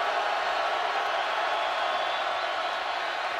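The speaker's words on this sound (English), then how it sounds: "loud noise from the sellout crowd" Steady roar of a loud sellout crowd in a college football stadium during Washington at Nebraska, a dense continuous wash of massed voices filling the space without break.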